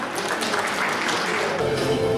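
Audience at a chamber of commerce business awards ceremony applauds steadily as an award is presented, a continuous wash of clapping that holds evenly to the end.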